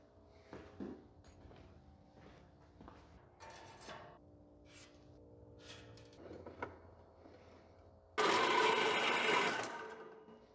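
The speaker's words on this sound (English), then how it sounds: "My bandsaw's only got about 3 teeth left on it." A worn bandsaw with a badly dulled blade cuts during a homemade elevator build in a backyard fallout shelter. Quiet clinks and handling noises give way to a loud, harsh two-second roar of cutting near the end.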